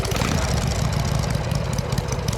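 A 1981 Harley-Davidson FXS Lowrider engine idles steadily as it warms up, a continuous loud, rumbling low-pitched throb with no talking over it.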